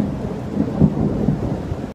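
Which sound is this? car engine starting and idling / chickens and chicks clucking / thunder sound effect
thunder sound effect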